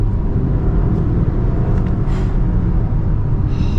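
A 2024 Audi Q5e plug-in hybrid SUV on the road, with a loud, steady low engine and road rumble filling the cabin throughout and no distinct break for a gear change.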